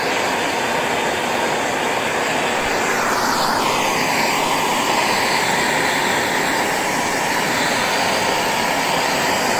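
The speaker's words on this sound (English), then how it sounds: "you want to heat it up as fast as possible. So MAP gas will do that." A MAP gas torch heats a zirconium blank, giving a loud, steady roaring hiss that holds unbroken and close for the whole stretch, with no talking.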